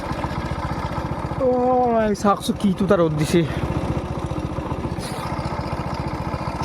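A borrowed motorcycle's engine idles nearby with a steady rapid thudding pulse throughout, while someone talks over it.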